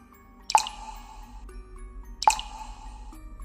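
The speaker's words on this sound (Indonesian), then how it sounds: "Air keran menetes pelan." Tap water drips slowly in a dim public bathroom. Two distinct, resonant drops land about two seconds apart with a short ringing tail over a quiet background hum.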